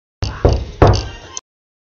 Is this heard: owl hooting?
no